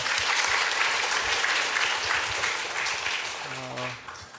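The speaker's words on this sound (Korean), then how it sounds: "우리 하나님께 영광의 박수 올립니다" Dense applause from a large congregation at a Sunday church service fills the room, steady and loud, easing slightly toward the end as a tone rises beneath it.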